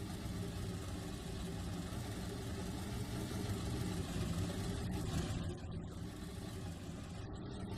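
A simulated diesel locomotive in Trainz 2019 runs at a steady drone as its throttle opens, a low continuous engine rumble that holds throughout with slight swells.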